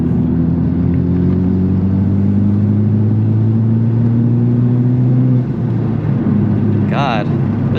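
Loud, steady road noise fills the cabin of a Honda Civic Type R on the move, a constant low drone and rumble with tire roar, heard without talk.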